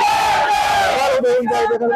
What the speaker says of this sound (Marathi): समर्थकांकडून जे आहे ते घोषणाबाजी देखील करण्यात येते।